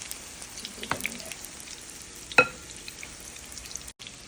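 Food fries quietly in a pan with a soft continuous sizzle, broken by a few small pops and one sharper crackle near the middle.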